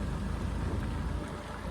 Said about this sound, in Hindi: बारिश देखो गाइस कितनी तेज हो रही है